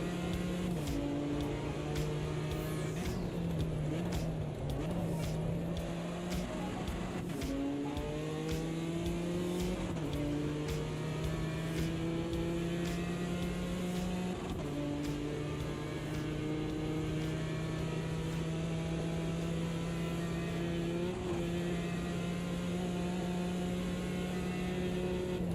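A BMW race car in the Automobilista 2 racing game drives a lap with a steady, buzzing engine note that rises through the gears and dips on gear changes, sustained and fairly loud, with no talk.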